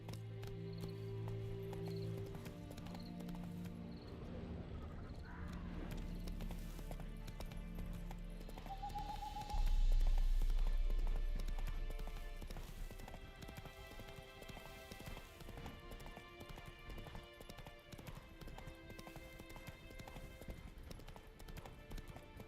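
Roach the horse in Witcher 3 walking with steady clip-clopping hooves, with a whinny partway through, over light rain and game music.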